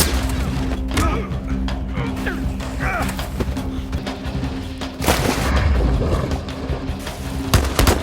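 Several gunshots ring out in a tense film scene, loud broadband bursts over a dense, rumbling soundtrack, with a heavier blast near the middle; a voice may be faintly present beneath the din.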